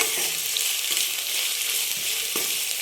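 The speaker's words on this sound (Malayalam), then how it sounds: "സവാള അരിഞ്ഞ് വെച്ചത് ഇട്ട് കൊടുക്കാം. നന്നായി വഴറ്റി കൊടുക്കാം." Sliced onions sauté in coconut oil in a kadai, giving a steady, close sizzle throughout with soft stirring scrapes and no talk.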